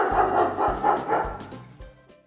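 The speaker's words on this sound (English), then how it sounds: "Dogs bark." Dogs bark at a farm, giving four close, deep woofs in a quick, even run that gets quieter toward the end.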